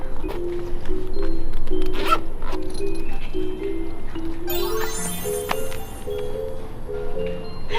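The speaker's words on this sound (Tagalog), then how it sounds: "You have to open suitcase number 15." A suitcase zipper is pulled open in several quick, close, loud strokes, followed by rustling as the lid is lifted.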